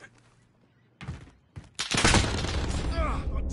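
Dense gunfire in a shooter video game erupts after a couple of sharp thumps, a continuous loud barrage of shots layered with game noise and a voice calling out.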